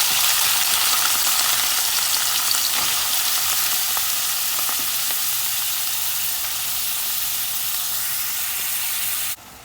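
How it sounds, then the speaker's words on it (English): Saltfish cod bits frying in hot oil: a loud, steady, close sizzle with dense crackle and hiss that runs unbroken, with a few faint pops, then cuts off abruptly near the end. "I am going to put our saltfish or our cod bits in the oil so we can fry them just for about 2 minutes"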